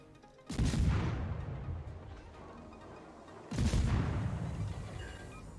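Naval guns fire at the American destroyer USS Mahan in World of Warships. Two loud, booming salvos arrive a few seconds apart, each with a sharp crack followed by a long rumbling decay.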